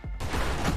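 Weapon fire in the space shooter game Nova Drift, a dense, continuous burst of loud rapid blasts and crackling impacts that starts after a brief quiet moment and stays intense throughout.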